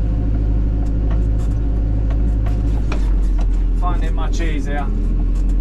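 A Hydrema 911F dumper drives along in manual mode, its engine a heavy, steady low rumble right under the cab with rattles and clunks over it, while someone talks.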